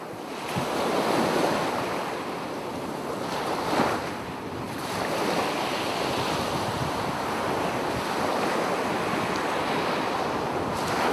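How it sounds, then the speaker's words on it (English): Ocean waves break continuously on a shore under steady wind, a dense, loud surf roar with gentle swells and no voices. "just hear the waves."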